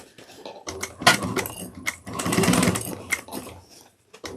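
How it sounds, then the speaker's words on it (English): Sewing machine stitching a 3/8-inch seam on a crossbody bag: close, loud, rapid mechanical clatter in uneven runs with brief pauses, alone without talk. "we're going to take this back to the machine and we're going to go sew 3/8 of an inch all the way around"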